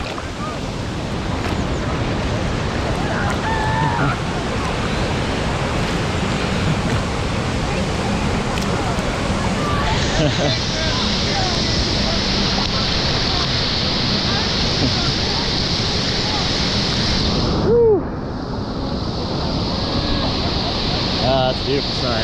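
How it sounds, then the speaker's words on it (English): Kravice Waterfalls roars as a broad, constant rush of falling water and churning pool, loud and close, with wind buffeting the microphone and a voice speaking briefly over it. "That's a beautiful waterfall."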